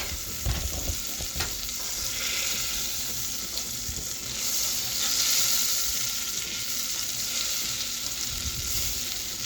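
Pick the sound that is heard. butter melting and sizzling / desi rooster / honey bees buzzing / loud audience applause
butter melting and sizzling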